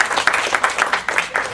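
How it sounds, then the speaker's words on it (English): An audience applauds first-time workshop attendees, clapping in a loose, uneven rhythm at close range. The claps are moderately loud and come in distinct bursts rather than a dense roar. "give them a big round of applause"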